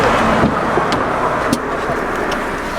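A hitchhiked car drives along a road in Saudi Arabia, its engine and tyre noise forming a steady, loud interior drone with light bumps.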